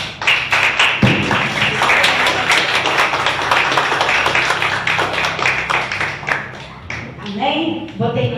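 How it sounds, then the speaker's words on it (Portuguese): Church congregation applauding during a Portuguese-language worship service, dense sustained clapping filling the room over music, with voices mixed in throughout. "Vamos aplaudir Jesus que Ele merece"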